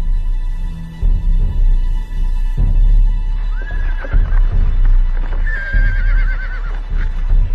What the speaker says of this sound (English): Both sides left their horses behind.